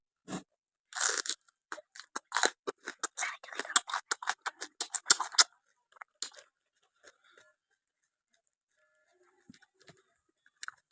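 Raw bitter gourd chewed up close: a quick run of crisp, loud crunches for several seconds, then a few sparse, fainter bites trailing off into near silence.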